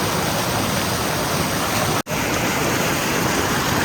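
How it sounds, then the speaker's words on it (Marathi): Loud river water rushing in the Konkan countryside, a dense continuous roar that fills the whole scene, with one very brief dropout midway and no voices. "इथे पाण्याचा आवाज एवढा आहे ना तर मला खूप जोराने बोलावं लागलंय"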